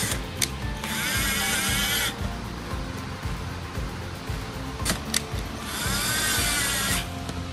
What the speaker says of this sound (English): Before we install it on the board, tighten the screws first.